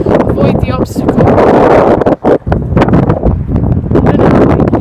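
Gusty wind buffets an outdoor microphone beside a road, producing loud, uneven rumbling bursts with brief lulls, while a person talks over it.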